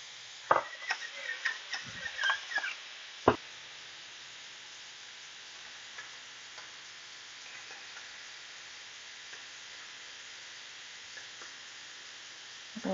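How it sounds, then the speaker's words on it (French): Argentine shrimp fry in a pan with a steady, soft sizzling hiss, opened by a cluster of clinks and scrapes before settling into quiet, continuous frying. "Faire cuire nos crevettes."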